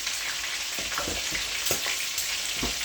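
Turned fish frying in a pan of hot oil, a continuous loud sizzle broken by several distinct spattering pops, with nobody speaking.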